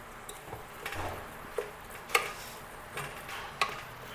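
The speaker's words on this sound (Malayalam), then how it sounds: "തക്കാളി ഇട്ട് നല്ലോണം ഇളക്കിയിട്ട് വീണ്ടും അതേപോലെ മൂടി വെക്കണം." Tomatoes stirred in a cooking pot, with soft scraping and light clinks of a spoon against the pot at irregular intervals, close and fairly quiet, with no talking.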